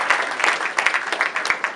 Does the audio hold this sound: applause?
yes